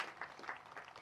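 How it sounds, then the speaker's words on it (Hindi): Brief applause at the inauguration of a national centre for Divyang empowerment for CRPF personnel, a short burst of scattered clapping heard somewhat faintly. "तो एक बार ज़ोरदार तालियां तो बनती हैं हमारे इस केंद्र के लिए, इस नई पहल के लिए।"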